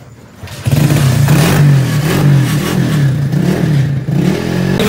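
New red 125 motorcycle starting up and revving, a loud, close, buzzing mid-pitched engine note that rises and falls as it pulls away, with a brief dip near the end.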